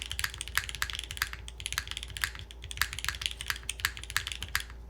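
Someone types steadily on a mechanical keyboard fitted with long pole switches. The keystrokes are crisp, bright and clacky, heard close and fairly quiet, with no talking.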